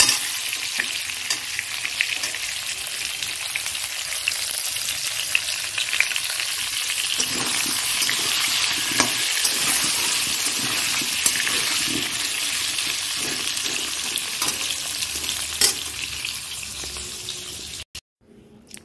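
Potato and papaya pieces sizzle in a pan, a dense steady frying hiss broken by intermittent stirring scrapes and clinks, close and unaccompanied by talk.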